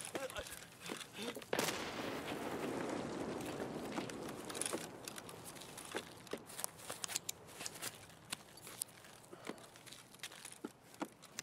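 Escape From Tarkov gunfire: a series of separate single-fire shots cracking at irregular intervals over rumbling in-game ambience, some close and sharp, others fainter.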